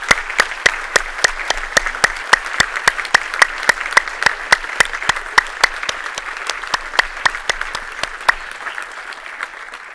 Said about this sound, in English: So I want for us to applaud ourselves for being part of this community